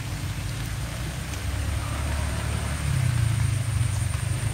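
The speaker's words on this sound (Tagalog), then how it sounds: "Ulan." Rain falls outdoors in a steady, dense hiss that swells slightly toward the end, with a low rumble underneath and no talking.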